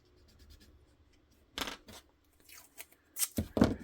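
Tape pulled and torn off a roll while making a Kydex holster for a Glock 34/35, heard as a few short, sharp ripping bursts separated by quiet pauses, close and fairly soft.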